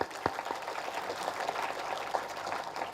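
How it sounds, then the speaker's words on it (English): Audience applause at a talk honoring architect BV Doshi's prize, a brief burst of clapping with a few sharp individual claps, moderately loud throughout. "Can you please all applaud for this lovely"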